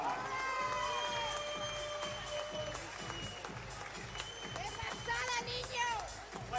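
Boxing-event crowd applauding and cheering for boxer Jordy Weiss, a loose mass of clapping with shouts and children's voices mixed in, while an announcer talks over the noise.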